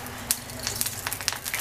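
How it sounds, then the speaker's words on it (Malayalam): Mustard seeds tempering in hot oil in a pan, a run of sharp irregular pops and crackles over a soft sizzle. "കുറച്ച് കടുക് വറുത്തിടണം"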